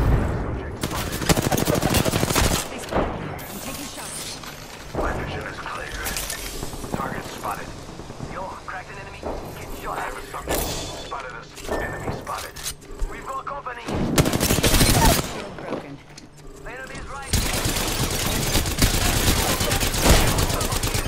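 Automatic weapons fire in Apex Legends on World's Edge, with repeated loud bursts and sustained volleys in several clusters amid other battle noise, while a player's voice talks over parts of it.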